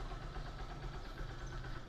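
A Honda Shadow 150cc motorcycle idles with a steady, low, faintly pulsing engine rumble, quiet and even throughout with no voices.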